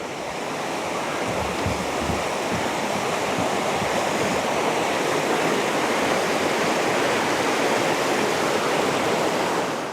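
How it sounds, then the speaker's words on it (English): A river in Great Smoky Mountains National Park rushes beneath a bridge near Smokemont Campground as a dense, continuous roar of flowing water, steady and fairly loud throughout. "Over the river with a bridge."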